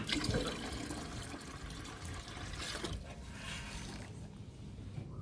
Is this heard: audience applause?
no